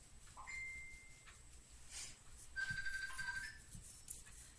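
A mobile phone ringtone sounds indoors as short, faint melodic tones, heard alone with no speech over it.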